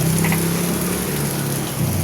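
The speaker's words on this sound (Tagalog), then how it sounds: "Naulan na." Steady rain falls, an even, dense hiss that holds at full strength throughout with a low hum beneath it and no one speaking.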